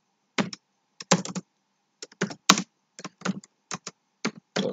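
Bursts of typing on a computer keyboard while C++ code is written, clustered clacks in quick groups separated by short pauses, close and clear with no talk.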